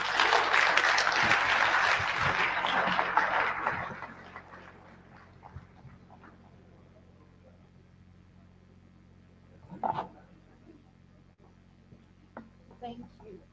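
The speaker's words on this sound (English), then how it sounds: "Please, another round of applause for Dr. Alex." An audience applauds after a chemical science lecture: dense clapping for about four seconds, then it fades to a quiet room with faint murmurs and small noises.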